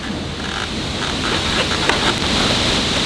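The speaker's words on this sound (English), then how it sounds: "So it's really windy outside," Strong wind blows outside a home garage, a steady, loud roar of gusty noise buffeting the microphone with no talking.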